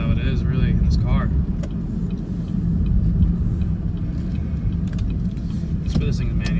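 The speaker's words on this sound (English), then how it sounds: "the pops in the exhaust, it's just absolutely insane, in my opinion" Camaro SS with a 10-speed transmission rumbling while driving, a steady low exhaust drone from inside the car with a few sharp pops, and someone talking over it.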